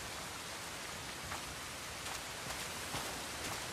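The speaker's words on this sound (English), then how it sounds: "It looks almost like a real rain in the night time" Night rainfall in the game Crimson Desert pours as a steady, dense hiss of drops, with a few slightly louder spatters breaking through the even wash.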